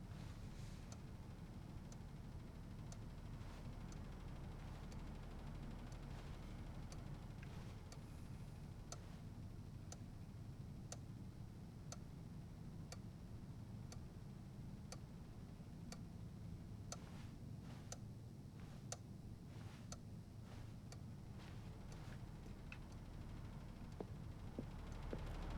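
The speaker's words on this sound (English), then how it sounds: "Oh, white noise? No, that's more like brown noise, I believe." Steady low rumbling brown-noise ambience from The Stanley Parable: Ultra Deluxe, a continuous even wash with faint regular ticking clicks scattered over it, holding at a constant level throughout.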